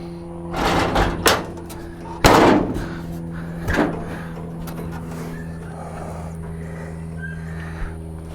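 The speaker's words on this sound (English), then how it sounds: "So let's go ahead and put that door right back where it belongs." Old VW Beetle door being refitted onto hidden hinges in a workshop: a few clunks and knocks, one sharp loud bang, then a quieter thud, over a steady low hum.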